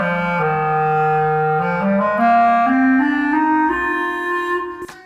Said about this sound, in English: that's how I change the sound on the clarinet.